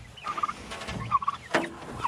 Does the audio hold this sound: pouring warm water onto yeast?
no